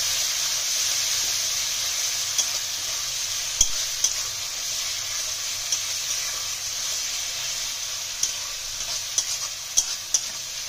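Spice masala fries in oil for Bengali pabda fish jhal, a constant close hiss and sizzle broken by sharp clicks and taps of a spoon stirring against the pan, with no voices.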